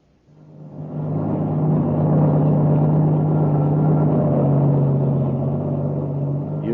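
A truck rolls along an open highway, its low engine rumble swelling up from quiet in the first second and then holding as a steady, even drone for the rest of the stretch, with no voices over it.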